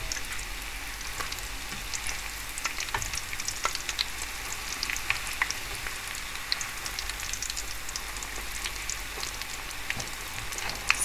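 Chicken kobiraji cutlet wrapped in a lacy egg coating frying in hot oil, a dense, steady sizzle with scattered crackles and pops throughout, close and without talk.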